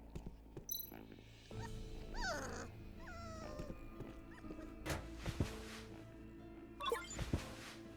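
A hungry, malnourished dog in the video game Tales of the Neon Sea gives high, wavering whimpers and whines, mixed with short thumps and rustles over a quiet game background.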